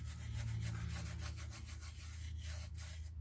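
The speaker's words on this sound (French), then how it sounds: "On frotte" A finger rubs loose glitter onto a small craft surface, giving a continuous soft scratchy friction with steady brushing strokes, close and fairly quiet, with no talking.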